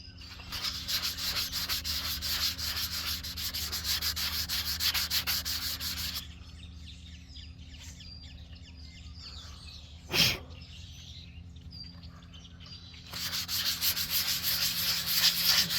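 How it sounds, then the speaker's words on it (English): Steady, raspy strokes of 320-grit sandpaper on paint run for several seconds, pause while birds chirp faintly outdoors, then start again close up. "it's definitely sanding pretty good"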